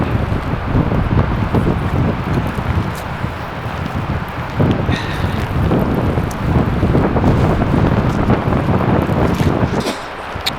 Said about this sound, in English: Hope you can hear what I'm saying in this wind.